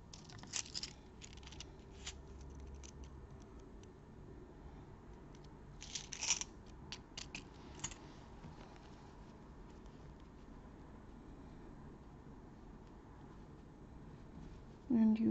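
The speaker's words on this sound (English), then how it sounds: "Now I will cut the yarn." Scissors cut crochet yarn for a swirl beanie with a few quick, crisp snips in short bursts, heard close and fairly quiet against a low background.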